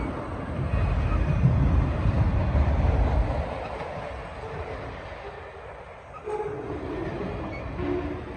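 A BNSF freight train of articulated auto rack cars rolls past under a rail bridge in Galesburg, a loud, rumbling roar that eases into a quieter, rattling clatter with brief metallic squeals.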